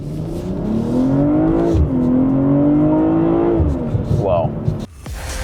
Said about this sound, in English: I could not hear all of these exhaust noises that I'm hearing now